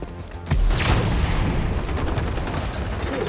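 A frag grenade blast in the shooter game XDefiant booms loudly after a brief pause, followed by sustained close gunfire and rumbling battle noise that carries on to the end.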